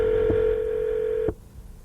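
A telephone dial tone sounds steadily and loudly for over a second before cutting off abruptly, with a brief click near the start and another at the cutoff as a call is placed.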